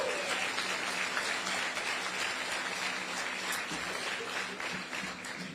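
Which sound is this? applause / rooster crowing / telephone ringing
applause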